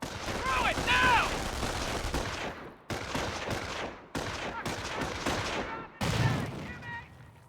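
Company of Heroes battle: a grenade blast against a machine gun team amid bursts of gunfire and explosions, loud, broken by short gaps, with a faint voice under the din.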